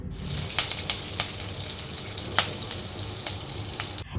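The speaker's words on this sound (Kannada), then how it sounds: "ಒಗ್ಗರಣೆಗೆ ಯಾವಾಗಲೂ ಸಾಸಿವೆ, ಕಪ್ಪು ಎಳ್ಳು, ಉದ್ದಿನಬೇಳೆ, ಜೀರಿಗೆ ಇವಿಷ್ಟನ್ನು ಹಾಕಿ ಜೊತೆಗೆ ಕರಿಬೇವಿನ ಸೊಪ್ಪನ್ನು ಕೂಡ ಹಾಕ್ತಾ ಇದ್ದೀನಿ." Mustard seeds, black sesame, urad dal, cumin and curry leaves sizzle in hot oil for tempering, a steady frying hiss punctuated by sharp, irregular pops and crackles.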